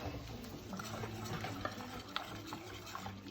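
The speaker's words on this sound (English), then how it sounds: "we're going to add some egg whites. Add that straight in. We'll whisk that up." Egg whites are whisked into a pot of chicken broth, giving a soft, steady liquid swishing with faint clinks against the pot, quiet and close with no voices.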